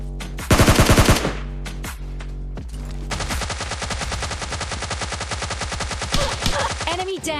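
Tommy gun fire in PUBG Lite: a short loud burst, then a long rapid automatic stream of shots, with a few more bursts near the end, under a voice talking.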